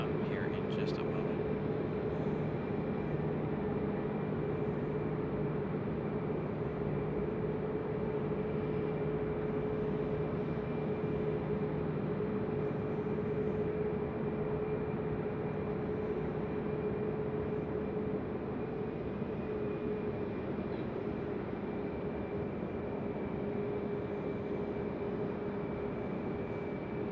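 A United Airlines Boeing 737 at Raleigh-Durham International Airport gives off a long, steady distant jet hum and whine that stays constant throughout, with occasional faint talk over it.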